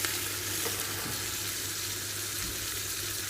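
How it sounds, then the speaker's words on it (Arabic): Meat frying with onion in a small pot for an Iraqi yellow stew, a steady close sizzle that fills the whole clip with no speech. "حمس شوية اللحم ويا البصل."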